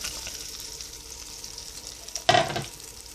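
Apples fry in butter in a pan over a steady low sizzle, with one short burst of clatter and stirring against the pan part way through, and no voices.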